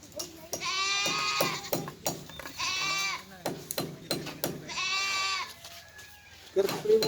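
A goat bleats three times in long wavering cries, loud and close, with people chattering in between during a birthday gathering.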